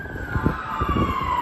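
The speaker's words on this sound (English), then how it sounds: "Am I hearing more sirens?" A fire truck siren wails steadily in the distance over low traffic rumble near Yonge and Bloor in Toronto, with no voices.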